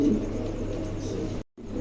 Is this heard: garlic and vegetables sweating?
no